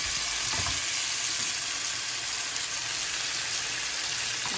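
Tomato frying in a hot pan, a dense, steady sizzle that stays loud and close throughout, with a brief stir or clatter near the start and no talk.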